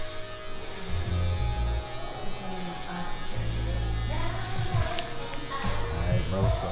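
Bevel Pro electric hair clippers cut hair in a barbershop, producing a steady close buzz that swells and dips as the blades pass, with brief murmured voices near the end.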